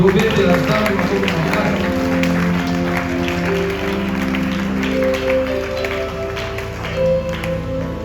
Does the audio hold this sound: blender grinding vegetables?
no